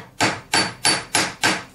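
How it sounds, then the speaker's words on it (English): A hammer strikes a metal ring on a mandrel to thicken it, giving five crisp, evenly spaced metallic blows with short ringing decays, close and loud with no talk. "So tap it both sides and then hammer it back to the same thickness"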